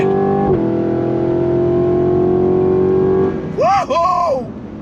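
A 2023 Cadillac Escalade-V SUV at full throttle, its engine droning loud and steady from inside the cabin, then a sharp gear shift and a rising whoop near the end, with people talking over it.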